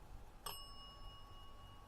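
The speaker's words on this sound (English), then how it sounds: "Cindy, make the cat bell go double ding if you're still here." A small bell on a cat toy gives a single quick, light ding that rings on briefly before fading, faint against a quiet night-time background hiss.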